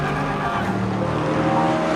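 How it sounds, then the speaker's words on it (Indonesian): A car engine drones loud and steady for a couple of seconds as it pulls away, with a faint tire squeal, used as a sound effect in a narrated story. "mobil melaju meninggalkan tempat"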